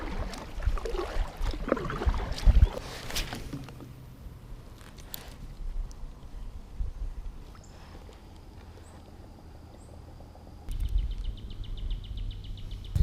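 Kayak paddling on a lake, a few loud splashy strokes near the start, then a quiet stretch of soft water lapping with faint bird calls, before louder handling sounds return near the end.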